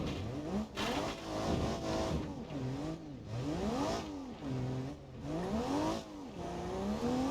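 Rally car engine in BeamNG.drive laboring with little power, its harmonic drone rising and falling in repeated revving sweeps, loud and continuous throughout.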